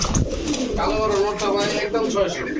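Pigeons coo continuously amid a busy bird market where fancy breeds such as Budapest, Teddy and Lahori are sold, with overlapping calls and crowd chatter running throughout.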